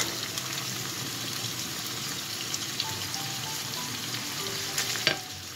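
Pastilla filling with spices stirred in a hot pan gives a steady close sizzle and fry crackle, with soft scraping and a small clink near the end.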